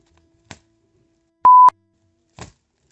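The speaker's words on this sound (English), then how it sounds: "Set the timer." A kitchen timer gives a single steady electronic beep lasting about a quarter second, loud and close, between a few faint taps.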